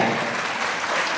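A hall full of people in a Bhopal jail claps during a Republic Day celebration, giving a dense, loud burst of applause throughout.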